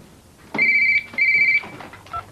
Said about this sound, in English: Answer that flipping phone, will you?